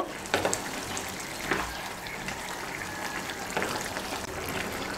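A spoon stirs turmeric powder into bottle gourd in a pan, with soft scraping strokes and a low background sizzle, three or four brief clattering pulses standing out near and clear.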